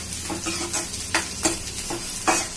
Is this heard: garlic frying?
yes